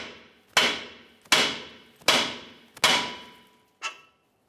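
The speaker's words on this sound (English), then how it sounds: "Let's continue on with the hammer. Cause a little bit of vibration right along the knuckle" Five sharp metallic hammer blows strike the steering knuckle of a Dodge Dakota one after another at a steady pace, each striking hard and fading with a brief ringing decay.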